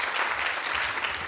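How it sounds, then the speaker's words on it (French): Dense, steady applause from a conference audience at a digital-policy debate, a continuous wash of many hands clapping at moderate volume with no talk over it. "déjà vous pouvez les applaudir"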